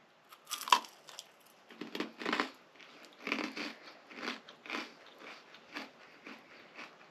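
Freeze-dried peanut brittle gets crunched and chewed close up, a series of crisp, brittle bites and crackles in an irregular rhythm, each followed by softer grinding, with no talking.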